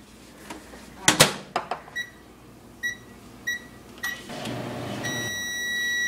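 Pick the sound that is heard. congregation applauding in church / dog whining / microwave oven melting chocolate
microwave oven melting chocolate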